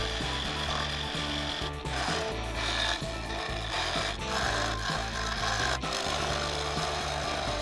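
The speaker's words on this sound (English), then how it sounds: "So taking the tenon down now, as you can tell, it's still not rotating perfectly." A wood lathe turns the tenon of a Mudgee river sheoak bowl, the workpiece still not running true, giving a steady loud scraping hiss with a rhythmic thumping pulse underneath, continuous throughout.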